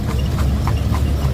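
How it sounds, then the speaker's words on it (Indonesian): A local horse pulling an andong carriage clip-clops steadily on pavement, about five regular hoof strikes in quick succession, close and clear over a low rumbling background. "Juga ada kuda ya, kuda lokal, kuda apa, kuda. Ini kudanya lokal"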